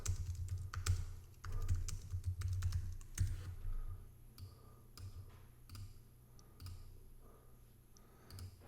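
Keys clatter on a computer keyboard as a template name is typed into invoicing software, a dense burst of clicks for the first few seconds, then sparser, lighter taps with pauses.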